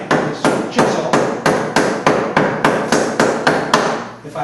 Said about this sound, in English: it's real safe to use a chisel and mallet because you've got both hands occupied